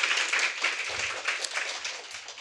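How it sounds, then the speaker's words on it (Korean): An audience at a panel discussion applauds as the panelists take their seats, a brisk, fairly close patter of many hands clapping at moderate volume without a break. "박수 한번 드릴까요?"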